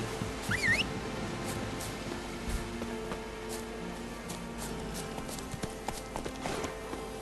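Horse hooves clip-clop in a steady walking rhythm over a quiet synthetic ambience, with a few brief chirps early on, in the video game The Witcher 3.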